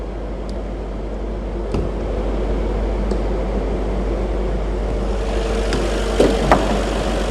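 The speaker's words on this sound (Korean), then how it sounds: "지금 냉각팬 도는 소리" Cooling fan of a Mercedes S63 AMG 4Matic spinning with the hood open and air conditioning on, a steady broadband whoosh louder than the idling engine, heard up close with a few faint clicks.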